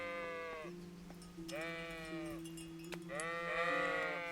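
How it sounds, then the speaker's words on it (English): Several sheep bleat in a pastoral scene in Kingdom Come Deliverance, with long wavering calls that overlap and repeat at moderate distance, alone with no talk. "there are the sheep"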